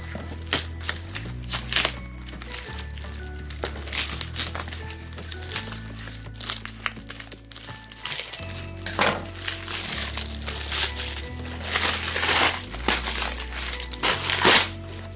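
Video camera equipment and accessories being unboxed, with close crinkling and rustling of packaging in irregular bursts over steady low background music.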